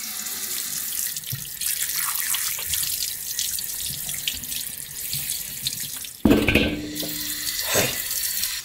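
A slab of cured Sichuan pork is washed under a running kitchen tap, a steady close rush of water with a sharper splash near the end as the meat is moved.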